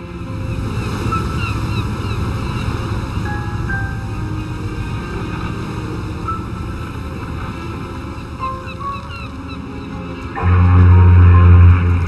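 Ocean waves and wind at sea in the Mafia 2 video game, a steady washing surf with breezy noise throughout, joined near the end by a louder low rumble.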